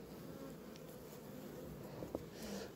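Honeybees hum in a dense, steady drone while a hive is opened and scraped, close and continuous, with a couple of faint knocks.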